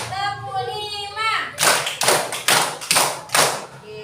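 Children clap together in a rhythmic Indonesian class cheer, five sharp bursts of claps following a sung lead-in from a teacher.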